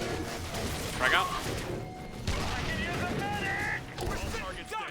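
A frag grenade blast in the video game The Bureau, heard amid ongoing combat noise with a broad burst partway through and a voice speaking over the action.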